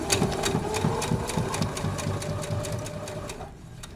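Sewing machine stitching fabric for a Christmas wall hanging, a quick even run of mechanical needle beats close by that slows and stops at the end.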